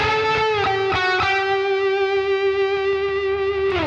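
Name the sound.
guitar solo with compressor, overdrive and echo on Sonicake Matribox II Pro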